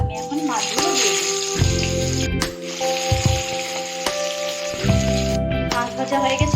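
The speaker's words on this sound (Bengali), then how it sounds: "আমার কড়াই গরম হয়ে গেছে, আমি এখন মাছগুলো দিয়ে দিই।" Rupchanda fish frying in a hot wok after a green chilli spice paste is added, giving a loud, steady crackling sizzle throughout, with a few clanks and scraping sounds and a voice talking over it.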